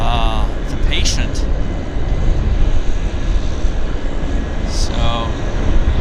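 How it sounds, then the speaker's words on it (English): Steady, loud helicopter and aircraft noise at Vancouver airport, a newly purchased air ambulance helicopter among the traffic, with engine roar and rotor wash filling the whole stretch and brief high whines and chirps overhead. "I think we'll be seeing more of these helicopters. They're newly purchased helicopters"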